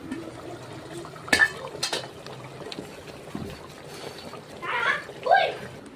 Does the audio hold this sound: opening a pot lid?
yes